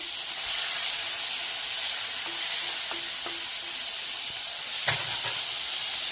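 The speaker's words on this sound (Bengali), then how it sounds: "নারকেলটাকে একটু লাল লাল করে ভেজে নিচ্ছে।" Grated coconut frying in a pan for a Bengali prawn malai curry, a steady bright sizzle with a few light scraping stirs and clinks, with no talk.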